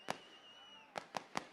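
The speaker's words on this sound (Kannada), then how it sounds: "ಪಟಾಕಿ ಹೊಡೆದು ಯಾಕೆ ಹಾಳು ಮಾಡಿಸ್ತಾ ಇದ್ದೀಯ ನೀನು?" Firecrackers go off at the Karaga festival: four sharp, faint bursts from a distance, one alone and then three in quick, evenly spaced succession.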